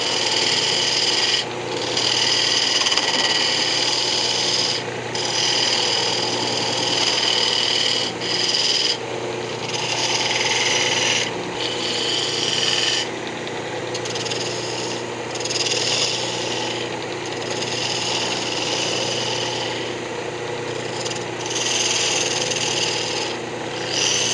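A wood lathe spins a yew box lid while a fingernail detail gouge cuts it, giving a steady, close rasping hiss over a low motor hum, with brief dips where the tool lifts off.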